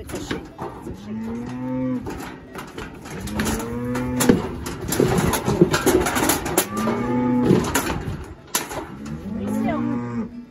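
A calf mooing on a cattle farm, several drawn-out calls spaced a few seconds apart, loud and close, with outdoor noise and bustle around it.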